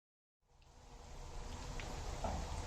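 Boiled potato wedges sizzle as they drop into hot oil in a frying pan, the crackle starting suddenly and building to a steady close hiss, with no talking.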